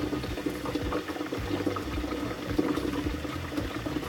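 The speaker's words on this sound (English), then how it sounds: "I'm going to take this over to my sink and fill this up with regular hot tap water" Steady rushing hot tap water pours into a container at a sink, a continuous hiss and gurgle with no voices, fairly close and even in level throughout.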